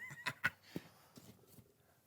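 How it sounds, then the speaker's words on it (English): Faint, distant horse sounds: a few short snorting bursts and soft scattered thuds, quiet and sparse against a still background. "Oh, that's a horse."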